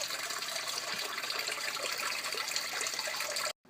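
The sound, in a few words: rinsing salted cabbage under running water for kimchi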